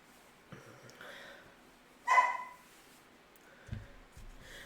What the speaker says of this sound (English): If you bark too much, I'll close the door.